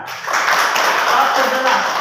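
Class of students clapping hands during a maths lesson, a brief dense patter of many hands filling the room at fairly close range, with a voice faintly present at the start.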